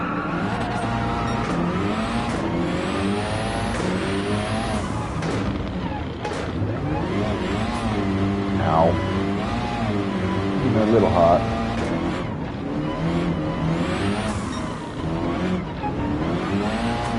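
A Ford Focus rally car in Gran Turismo 7 races along a mixed on-road and off-road course, its engine revving hard and continuously with rising and falling pitch and some tire squeal, while someone talks over it throughout.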